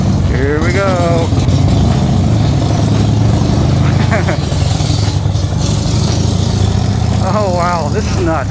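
A 1994 Harley-Davidson Heritage Softail FLST, converted to a jockey shift with a foot clutch, rumbles steadily as it pulls off in gear, its loud engine running close throughout with a rider talking over it.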